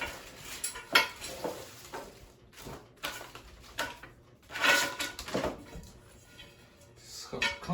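A Vayepro stove-top flat griddle being lifted out of its box, with irregular close knocks, clanks and scraping of metal against cardboard and packing, some sharp bangs between quieter rustling.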